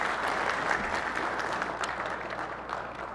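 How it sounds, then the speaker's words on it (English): Applause fills a session of the Hawaii State Senate. Steady clapping from a sizable group runs for about three seconds at an even, moderate level, with a murmur of voices faintly underneath. "if you could give them a round of applause, and welcome to the Hawaii State Senate"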